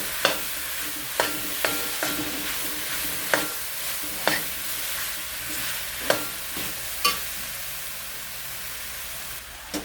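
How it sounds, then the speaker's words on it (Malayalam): Food fried in a pan until its moisture cooks off, stirred with sharp scraping strokes at irregular intervals over a steady hiss of sizzling, close and moderately loud with no talk. "അത് വരെ നമുക്ക് ഇളക്കാം."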